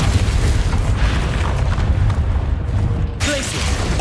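Booming explosion from the Bombarda blast spell in the Hogwarts Legacy video game, a loud, dense rumble that carries through the whole stretch and eases off a little near the end.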